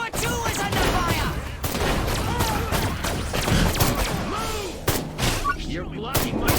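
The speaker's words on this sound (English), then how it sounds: "Tower 2 is under fire!" Heavy gunfire pours onto a tower in the video game Destroy All Humans, dense overlapping shots and booms running without a break, loud and close, with game voices shouting over them.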